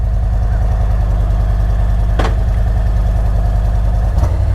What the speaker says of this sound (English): I'm on the Ultra with the Reinhardt full system. And clearly it's quite a bit louder at idle